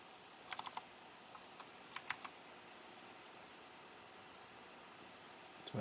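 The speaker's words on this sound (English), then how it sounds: "That's why it's nice to have the keyboard to type instantly if you need to." Typing on a computer keyboard during live forex trading, a few short bursts of quick key clicks spaced out over quiet room noise, fairly faint.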